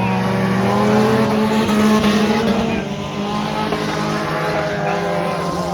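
A brand new race car in a heat at Hattiesburg Speedway roars loudly nearby, its engine droning steadily at high revs and then dropping slightly in pitch as it carries on around the track.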